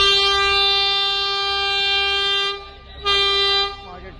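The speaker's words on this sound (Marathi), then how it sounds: "आता इकडे ट्रेन चालले." Toy train horn at the Matheran hill station, a long steady tonal honk sounding loud and close, briefly cutting out then resuming, with the rumble of the moving train underneath.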